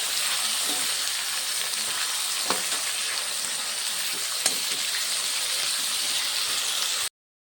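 Steady sizzling of potatoes and chayote being stirred in a small kadai, with occasional soft scrapes and clinks of the spoon over a continuous frying hiss, close and even throughout.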